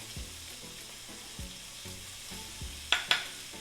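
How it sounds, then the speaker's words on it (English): Onions sautéing with curry powder and turmeric in a pan for a Thai coconut chicken curry: a quiet, close sizzle with a few soft scrapes of a utensil and two sharp clinks near the end. "Sauteing the onions."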